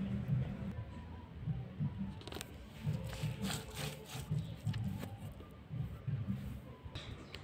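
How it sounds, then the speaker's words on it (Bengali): Chillies and spices are ground by hand on a shil-nora grinding stone, a rhythmic scraping and rubbing of stone on stone repeated in steady strokes, fairly quiet and close. "এটা এবারে আমি শিলনোড়াতে বেটে নেব"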